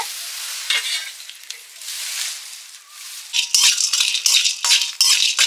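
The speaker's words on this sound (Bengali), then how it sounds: "একটু গরম মশলা ভেজে নিচ্ছি, সঙ্গে একটু জিরেও দেব।" Garam masala and cumin fry in a pan, giving a bright hiss with scraping and rattling as a utensil stirs the spices, growing louder and more agitated in the second half.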